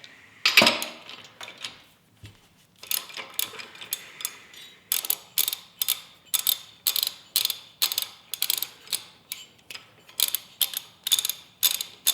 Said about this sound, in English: the next step in this journey that we're taking is to get the spark plug out. So, wrench.